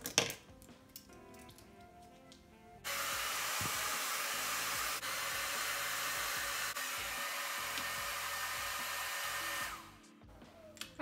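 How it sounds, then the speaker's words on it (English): A hair dryer rough-drying hair runs as a steady loud whoosh for about seven seconds. Small handling clicks come before it switches on and after it switches off. "just go ahead and rough dry all my hair"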